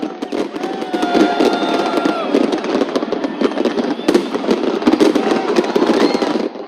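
A Dubai fireworks show with dense bursts of crackling and popping explosions, whistling rockets rising between them, over a murmuring crowd that keeps talking throughout.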